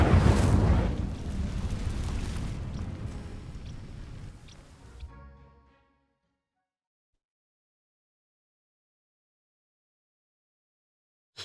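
An Incendio fire spell bursts in Hogwarts Legacy with a loud whooshing blast that roars, then trails off over about five seconds into silence.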